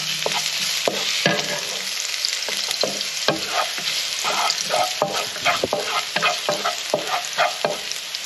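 Garlic frying in hot oil in a pan, the start of a crab in chilli oyster sauce: loud, close sizzling broken by repeated scraping stirs that get quicker and more frequent toward the end.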